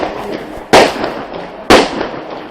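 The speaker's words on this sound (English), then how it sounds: "here's some gunshot" Two sharp gunshots ring out about a second apart during China-India joint military training, each a loud crack with a brief echoing tail over a low outdoor background.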